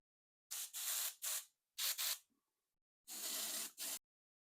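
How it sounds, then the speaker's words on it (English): A second coat of paint is sprayed onto a 1976 Monarch car in several short, close bursts of hissing aerosol spray separated by silent pauses, the last burst longer and steadier. "Now I'm going to spray on second coat."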